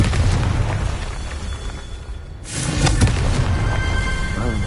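Fiery blast of the Confringo spell in the Hogwarts Legacy video game, a loud rumbling boom that swells again after a brief dip, over dense continuous game noise.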